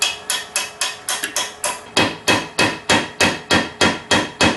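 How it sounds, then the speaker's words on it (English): A hammer drives a stuck pin out of a Wheel Horse engine camshaft, about fifteen sharp metallic blows at a steady, brisk rhythm, close and loud with no talk. "with enough hammering, I finally got my pin out"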